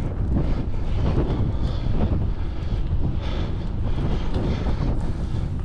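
Strong gusting wind buffeting the microphone during a mountain bike ride on gravel tires, a loud continuous low roar with no talking.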